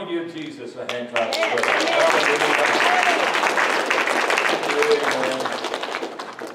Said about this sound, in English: Come on and give Jesus a hand clap.